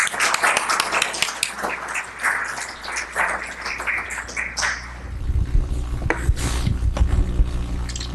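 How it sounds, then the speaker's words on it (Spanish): Audience applause for a doctor at a mining committee presentation, a steady patter of clapping that dies into a low hum and rumble partway through, with no one talking over it. "Un aplauso para el doctor."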